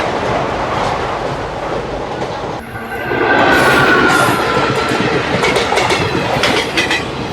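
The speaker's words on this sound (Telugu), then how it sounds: "మన ట్రైన్ అయితే అండి ప్రస్తుతం కైకలూరు నుండి అయితే స్టార్ట్ అయిపోయింది" Narasapur Express passenger train running on rails near Kaikaluru, heard from inside a coach: a steady loud rumble with rhythmic clickety-clack of wheels over joints that grows louder and busier about a third of the way in.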